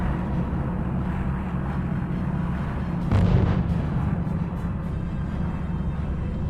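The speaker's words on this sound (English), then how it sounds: "Unit reports heavy fire." Heavy battlefield fire in the R.U.S.E. strategy game: a continuous low artillery rumble with a sharper burst of explosive impacts partway through, dense and far-off, with no one talking.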